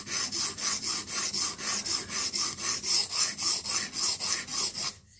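A knife blade drawn in quick, regular diagonal strokes across a sharpening stone, about twenty rhythmic rasping passes close up, alone and without talk.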